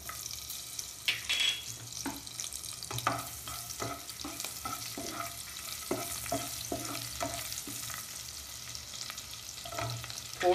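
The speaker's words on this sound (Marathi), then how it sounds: "इथे मी तेल तापत ठेवलं आहे, यात आता मी हिंग टाकत आहे।" Asafoetida, crushed garlic and green chili hit hot tempering oil for a vegetable dish, crackling and popping in irregular sharp bursts over a continuous close sizzle, with no speech.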